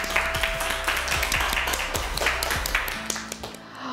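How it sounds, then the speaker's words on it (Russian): Studio audience on a Russian makeover reality show claps in a dense, continuous patter, fairly close and loud, over a low steady background hum and occasional tonal sounds, easing off near the end. "Аплодисменты, друзья"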